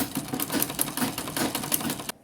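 A sewing machine runs steadily, top stitching a zipper purse with a fast rattling needle rhythm, close and continuous, then stops abruptly at the end.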